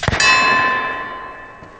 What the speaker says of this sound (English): it slammed that soda and then smashed into the plate